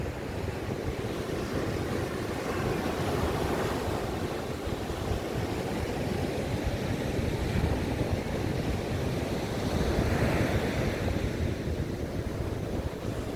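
Big sea waves roll onto the beach at Baler, a steady loud roar of surf with wind buffeting the microphone, swelling slightly near the end, no talking.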